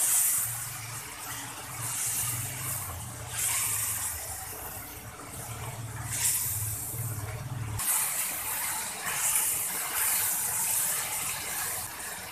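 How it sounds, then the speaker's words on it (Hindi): Water splashed into a hot pan of frying dry spices for an Indian egg masala gravy, giving a continuous loud sizzle and hiss with surges of spattering throughout. "पानी का छींटा, ताकि ड्राई मसाले जो डाले हैं वो हमारे जले ना"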